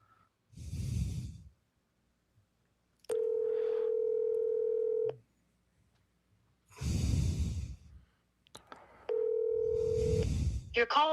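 Telephone call being placed: two bursts of dialing and steady ringback tones, each lasting about two seconds, alternating with loud close breaths or sighs, with a faint clatter at the end.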